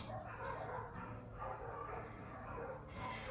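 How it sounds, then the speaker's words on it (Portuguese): Dogs bark and yelp in the distance, overlapping in a faint, continuous chorus against steady background noise. "Nossa, tem muito cachorro latindo, né?"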